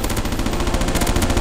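Rapid automatic gunfire from Counter-Strike: Source on a zombie escape map, a dense burst of close, loud shots rattling continuously without talk.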